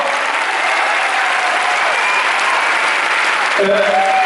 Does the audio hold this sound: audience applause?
yes